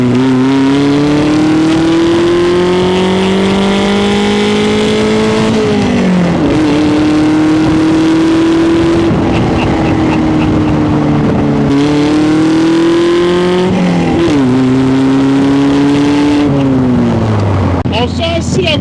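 A Lotus Super 7 replica revs hard through the gears, its engine note climbing, dropping at each shift and climbing again, loud and close throughout the run.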